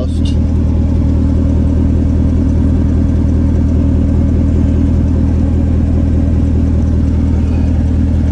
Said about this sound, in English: This is from the exhaust.